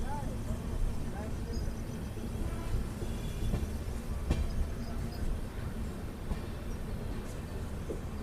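The Telangana Express running from Hyderabad to New Delhi, a low, continuous rumble of rolling carriages with rattles and occasional metallic squeals, heard from inside at moderate level.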